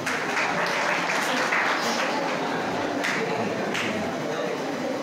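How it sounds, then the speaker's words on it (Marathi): Students in a high school classroom give a short burst of applause for a classmate's correct answer, a dense steady patter of clapping throughout with voices mixed in. "याच्यासाठी अर्ध्या टाळ्या वाजवा बरं का"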